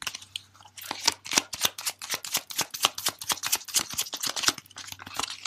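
Tarot cards shuffled rapidly by hand, a dense run of crisp riffling snaps close by for several seconds with no talking.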